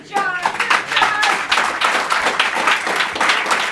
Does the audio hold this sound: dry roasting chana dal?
no